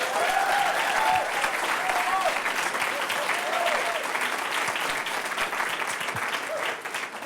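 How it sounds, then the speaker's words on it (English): A large audience at a report launch event in Geneva applauds loudly and continuously before a speaker begins, a dense wash of clapping that thins slightly toward the end. "Everywhere I go, you just applaud before I speak?"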